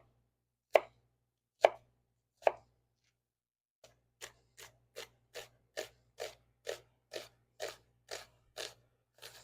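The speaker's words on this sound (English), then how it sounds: "I'm just going to cut these in half and just do a nice little mince." Knife chopping and mincing food on a cutting board while preparing a healthy Alfredo pasta sauce: three loud, spaced chops, a short pause, then a steady run of quicker, softer cuts, close and alone.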